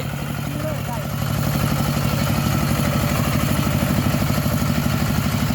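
Walking tractor engine, eleven horsepower, idling with a fast steady clatter of regular low pulses that grows louder after a second, with people talking faintly over it.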